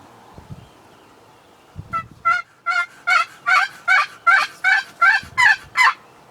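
A wild turkey tom gobbles, a rapid series of about a dozen rattling bursts, fairly close and clear, after a few faint rustles.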